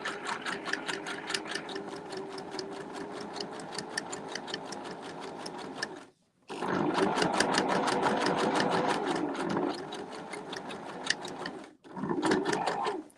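A sewing machine stitches fabric in steady rapid runs, loud and close, with two brief stops before continuing to the end of the seam.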